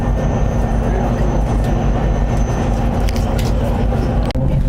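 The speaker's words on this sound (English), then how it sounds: "this is the train that left Fairbanks this morning just a little after 8 a.m." An Alaska Railroad passenger train out of Fairbanks rumbles past on the line toward Whittier and Denali, a loud, continuous rolling roar with steady wheel clatter and no speech.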